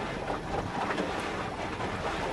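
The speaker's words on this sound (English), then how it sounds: "see if you can hear the water splashing on the hull, on the steel hull" Water lapping and splashing against the steel hull of an old houseboat on a river, a steady broadband wash with no clear individual slaps, heard close up and fairly loud, with no voices.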